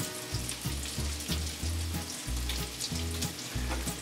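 Almond-crusted puffer fish fries in hot vegetable oil, a close, steady sizzle and crackle with soft bubbling that carries on without pause and with no voices.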